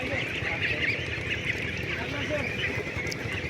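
Ducks and ducklings on a farm keep up a dense, steady chorus of quacks and peeps, close by and continuous throughout.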